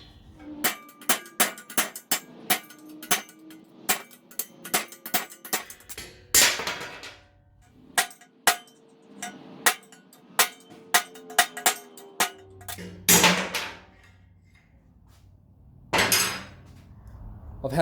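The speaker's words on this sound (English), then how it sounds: "Please excuse my hammer as well." Sharp metallic hammer strikes on Ducati 900SS motorcycle parts ring out in a steady series, close by, pausing now and then for scraping and clattering of metal parts.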